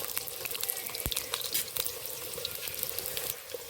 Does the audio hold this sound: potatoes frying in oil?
yes